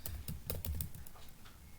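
Rapid clicking of keys on a computer keyboard as a short command is typed, with a quick irregular run of close, crisp taps and no talking.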